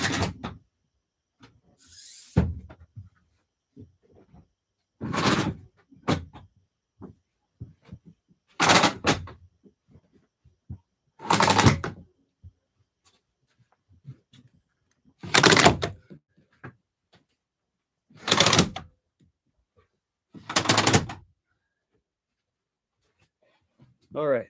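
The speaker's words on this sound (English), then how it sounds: "I gotta stop and close my windows because it's about to get buggy here" Windows being shut one after another inside a skoolie bus conversion, with about seven sharp, loud sliding clunks spaced a few seconds apart and quiet shuffling and handling noises between them.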